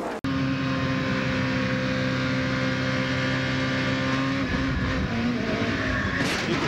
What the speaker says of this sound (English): you can almost hear the engine rev up